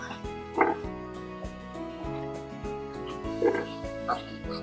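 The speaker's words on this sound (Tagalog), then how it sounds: "naglalaro na po yung mga biik natin" Newborn piglets oink in short bursts at play, near and moderately loud, with a steady droning hum running underneath.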